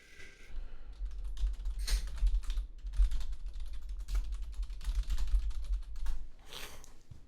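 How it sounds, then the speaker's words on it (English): Fast keyboard typing runs steadily for about seven seconds as a dense, close stream of clicking keystrokes with brief pauses, and nobody speaks over it. "I'm going to type something to you quickly."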